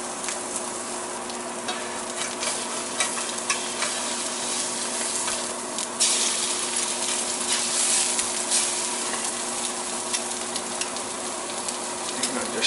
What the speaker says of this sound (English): Get these eggs over easy and we'll be good to go